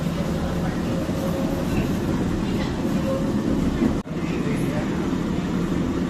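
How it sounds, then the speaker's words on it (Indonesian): Inside a decorated passenger train at an Illinois railway museum, a continuous low rumble and rolling rattle of the cars carries on steadily, with one brief sharp dip partway through. "kita di dalam keretanya"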